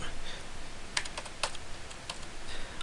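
Typing on a computer keyboard: close, quiet clusters of key taps in an uneven rhythm, a few keys struck harder than the rest, with no talk over them.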